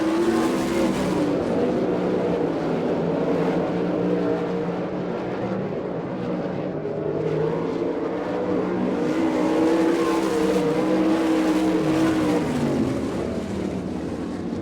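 Sprint race cars at a dirt oval event in Abbottstown, Pennsylvania, finishing a heat race, with a loud, continuous engine roar from several cars rising and falling in pitch as they run the track, no voices.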